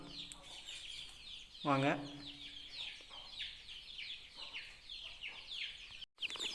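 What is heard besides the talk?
native chickens clucking while being fed grain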